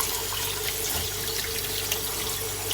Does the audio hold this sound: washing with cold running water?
yes